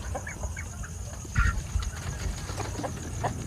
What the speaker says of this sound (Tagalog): ito po yung bantam na lalaking manok. May sipon siya mga kapatid